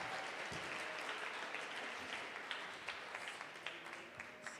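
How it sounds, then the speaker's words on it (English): Audience applause for performers inside a building during a memorial celebration of life, a full, continuous clapping roar that slowly thins toward the end, with a few louder individual claps standing out. "Let's have another round of applause for the incredible Joyous."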